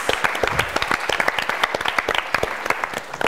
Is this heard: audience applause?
yes